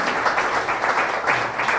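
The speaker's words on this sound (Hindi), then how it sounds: "हम सनी का भी तालियों से स्वागत करते हैं।" A church congregation at an Easter prayer service claps steadily for a first-time visitor, a dense, even patter of applause with no voices over it.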